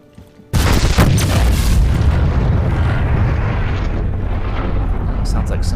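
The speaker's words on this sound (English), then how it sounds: "Sounds like somebody self-destructed." A spaceship self-destructs in the Star Citizen video game with a sudden deep boom that breaks into a long rumbling roar, sustained loudly for several seconds.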